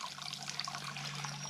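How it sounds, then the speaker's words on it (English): Water trickles steadily down a small outflow stream from a mountain pond, a continuous close babbling wash with no voices. "this is a little bit of an outflow, and at least the water's moving"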